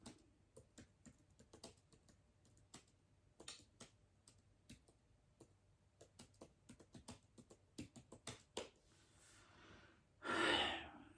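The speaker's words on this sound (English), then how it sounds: "I am practicing my typing." Fingers typing on a computer keyboard in a quiet room, a quick irregular patter of close key clicks with short pauses, then a loud exhaled sigh near the end.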